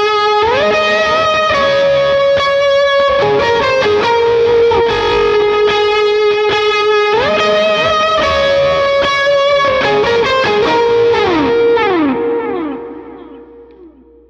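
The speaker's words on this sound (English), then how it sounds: "that delay tails out, and it sounds real nice." Electric guitar through a Helix or POD Go with delay, chorus and drive, playing sustained notes and a slide down for a worship song, with echoing delay tails that ring out and fade alone at the end.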